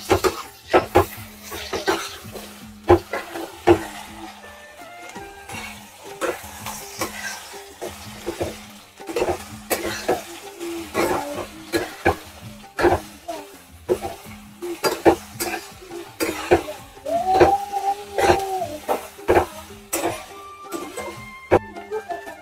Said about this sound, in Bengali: চলো এগুলো ভালো করে একটু ভেজে নিই।